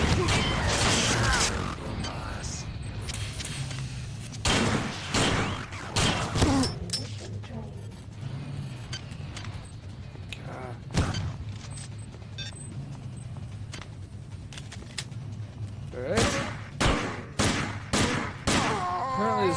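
Pistol gunfire at a security bot in System Shock 2: sharp shots land in scattered bursts over mechanical clatter and crashing impacts, with quieter gaps in between.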